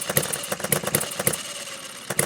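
A Retrol Musa HM-01 hit-and-miss four-stroke gas engine runs close by, giving an uneven, pulsing chug of irregular firing beats with brief gaps between bursts.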